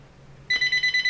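A landline phone rings indoors, its bell starting abruptly and pulsing in quick, steady bursts, loud and close with no one talking over it.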